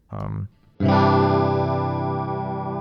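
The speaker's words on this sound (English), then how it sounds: "Let's put the chorus right at the end" A short electric guitar note, then a sustained chord with a shimmering, slightly wobbling chorus effect that rings out and slowly fades.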